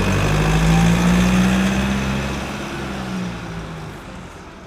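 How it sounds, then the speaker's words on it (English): A small motor hums steadily up close, with a slightly rising whine at first before settling into a lower, fading drone. "Delivery car."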